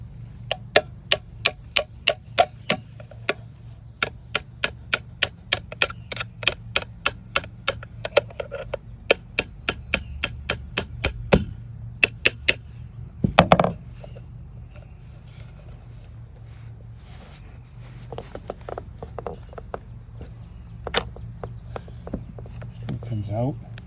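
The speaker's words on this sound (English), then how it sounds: "so I can drive the pin out." A hammer taps a 3/16 punch to drive a pin out of a Jacuzzi Laser 192 lever cover, a long run of sharp, evenly spaced metallic taps, close and distinct, that become sparser and fainter toward the end.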